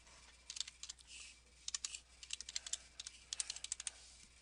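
Rapid bursts of computer keyboard typing as a profile name is entered, with uneven clusters of crisp, close key clicks separated by short pauses and no talk.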